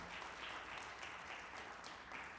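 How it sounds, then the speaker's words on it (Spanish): Congregation applauding during a Spanish-language Sunday church service, a steady dense wash of clapping filling the room throughout, moderately loud and without pauses. "Un fuerte aplauso para el Señor"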